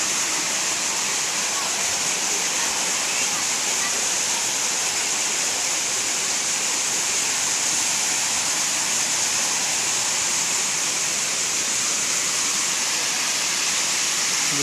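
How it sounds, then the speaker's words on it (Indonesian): Small waterfall at Widuri, Grobogan, a continuous, even hiss of falling water that stays loud and unchanging throughout, with no other sounds standing out. "Oh, ini juga ada pancuran juga ya, tapi kecil."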